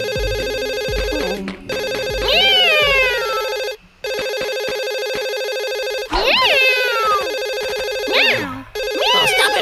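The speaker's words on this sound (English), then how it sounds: "I can hear the phone." A telephone rings repeatedly in a cartoon with a loud, bright, steady electronic ring, broken by short gaps and overlaid by whooping cartoon sound effects.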